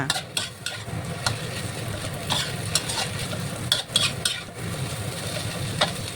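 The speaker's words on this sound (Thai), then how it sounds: "ผักกาดหอม ผักชีต้นหอมค่ะ ใส่ลงไป ผัดใหม่ๆร้อนๆก็อร่อยดีค่ะ" Lettuce, coriander and spring onion stir-fried in a hot pan, with continuous sizzling broken by scraping stirs and sharp clicks of a utensil against the pan, close and fairly loud.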